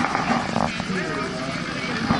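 A sightseeing helicopter at the 2018 Neighbor Days event at Felts Field airport gives a loud, close rotor chop and engine roar that never lets up, with people talking nearby.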